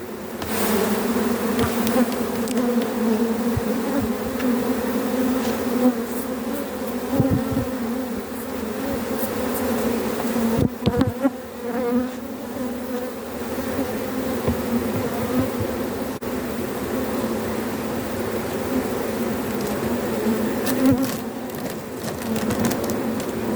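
Honey bees hum steadily around an opened, stacked beehive during a honey harvest under drought conditions, a dense continuous buzz close by with a few brief louder passes of individual bees.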